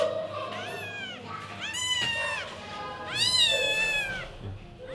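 Cats at a marina meow repeatedly for food, several drawn-out rising and falling calls close by with quiet gaps between them.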